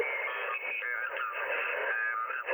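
Noisy amateur radio band heard through an Icom IC-718 transceiver with its preamp switched off, a steady band of hiss and crackle with faint signals mixed in, continuous and fairly quiet.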